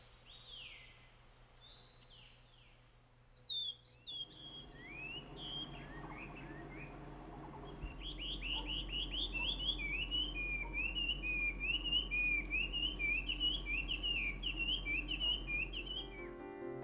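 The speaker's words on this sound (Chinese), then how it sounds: "邹族的占卜鸟 Ozumu 就是绣眼画眉，可见画眉鸟与先民关系的密切。" Song of a grey-cheeked fulvetta, a Taiwanese babbler, in forest: clear whistled phrases and rapid chirping trills repeat and build over steady background hum, fairly close and alone.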